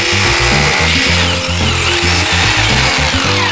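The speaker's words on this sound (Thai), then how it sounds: "ผมก็จะใช้วิธีเจาะทะลุโครงไปเลยนะครับนี่เจาะทะลุโครงข้าวไปเลยแบบนี้นะครับ" A power drill runs loud and close, its motor pulsing unevenly as it bores straight through the frame of a lightweight partition wall, with no voices over it.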